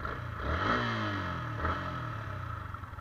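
A Yamaha Sniper motorcycle engine revs up and settles into a steady hum, with a second rev partway through, close and continuous.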